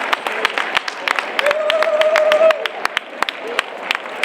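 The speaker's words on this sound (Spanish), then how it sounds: "Un aplauso, por favor, un aplauso" Outdoor festival crowd at a Sierra con Gaza charity event claps in uneven, scattered bursts, with a voice calling out over the applause and some crowd noise beneath.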